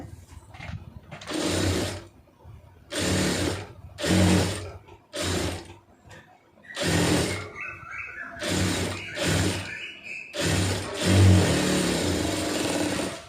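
A sewing machine stitches blouse lining in bursts, each run of rapid mechanical whirring and clatter lasting about a second, separated by short pauses, close and fairly loud with no talking.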